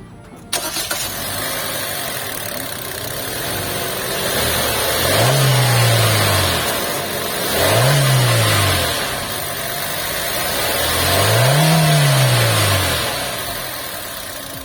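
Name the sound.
Hyundai Creta 1500cc engine revving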